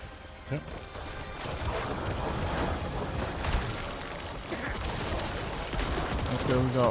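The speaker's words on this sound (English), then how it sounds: "Okay, we got plenty of explosions around here." Repeated explosions and blasts in the action game Diablo IV, dense crackling booms and impacts layered over one another, with someone talking over the constant battle noise.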